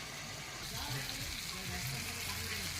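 Fish heads and cabbage frying together in a wok, a steady, moderately loud sizzle with some stirring noise underneath.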